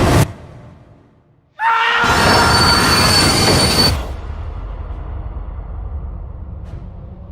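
A train in the film Murder on the Orient Express rumbles along the tracks, with a loud burst of screeching wheel squeal and hissing for a couple of seconds before settling into a steady rolling roar.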